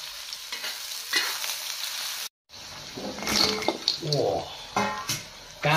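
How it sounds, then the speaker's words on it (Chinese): Fried chicken feet are stir-fried in a wok with scallion, ginger, garlic and chili, with a steady loud sizzle broken by a brief silence, then scraping and tossing of the spatula amid crackling oil. "现在给它回一下锅，葱姜蒜辣椒爆香"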